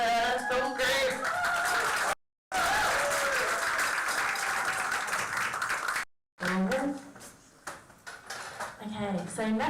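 An audience claps again for a youth film group at a live showcase. A voice speaks at the start, then loud, dense applause takes over, breaks off briefly and fades as talking returns.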